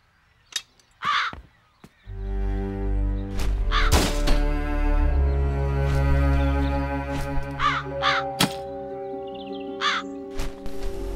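Crows cawing in an adventure video game, several harsh caws spread across the stretch over a sustained low musical drone, with a few dull thunks in between.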